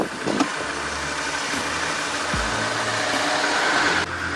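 A Land Rover Series 1 drives along with its engine running, a steady mid-pitched drone of motor and road noise holding at an even level throughout, with no voices.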